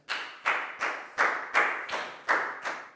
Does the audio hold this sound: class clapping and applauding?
yes